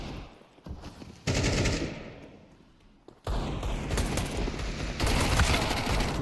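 Rapid Mac-10 submachine gun fire in a competitive Counter-Strike match, with dense automatic bursts in several loud stretches separated by short lulls, close and sharp.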